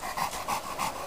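A dog that has rolled in a dead skunk pants close by in quick, rhythmic breaths, about four panting cycles, heard alone.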